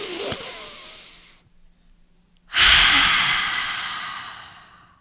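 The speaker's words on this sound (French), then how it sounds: "Je peux aussi respirer plus fort." A person breathing loudly and forcefully, a long rushing exhale, a short pause of near silence, then a second strong breath that slowly fades, close up with no talking.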